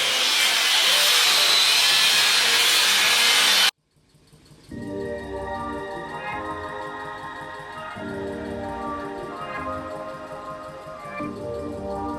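A power tool cuts off a welded metal part on a Ford Lightning intake: a loud, hissing burst of cutting, then a sudden stop and brief silence before a humming tool runs on with wavering, pulsing tones.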